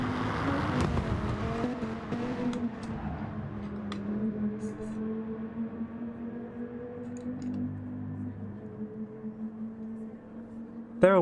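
Engine drone from an Aston Martin race car in the GT Sport video game, a sustained engine tone that rises and falls as it runs, moderately loud and continuous.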